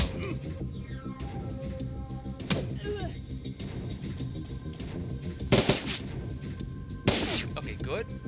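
Gunfire in the Shadowrun: Dragonfall video game, with a few sharp bursts of shots cutting through a busy game soundscape, mostly brief clustered reports rather than sustained firing.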